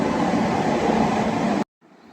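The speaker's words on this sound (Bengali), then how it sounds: "ট্রেন চলে এসেছে।" A train pulls in at a station, its steady loud rumble filling the air for under two seconds before cutting off abruptly, leaving only faint background noise.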